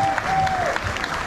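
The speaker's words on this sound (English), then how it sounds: "Let us all give him a round of applause." Brief applause from a crowd at a building inauguration ceremony, with a steady tone sounding over it.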